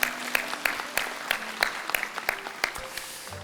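Congregation applauding in a church during a Sunday service, a steady patter of clapping with sharp individual claps standing out, moderately close and alone.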